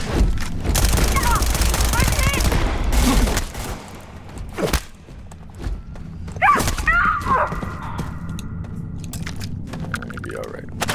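Bursts of enemy rifle fire in Starfield, a sustained volley at the start and then scattered sharp shots with thuds, while people talk over the combat.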